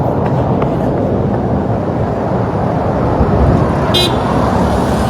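Road traffic on a Kuwait street, cars passing close by in a loud, continuous roar of tires and engines, with a faint toot near the end.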